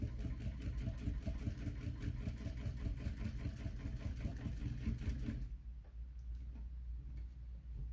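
A sewing machine stitching the center seam of a crossbody bag runs in a fast, even mechanical rattle for about five and a half seconds, then stops abruptly, leaving quiet room tone.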